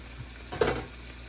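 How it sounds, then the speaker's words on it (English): Chicken and steak fry in a pan, a soft close sizzle with a brief stir or shuffle in the middle, faint and alone. "everything is frying now"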